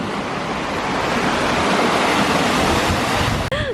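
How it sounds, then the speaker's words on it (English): Steady roar of surf breaking on a secluded beach near Queenstown, New Zealand, a continuous wash of waves with some wind buffeting the microphone, loud and close, no voices. "I think I found a secret beach."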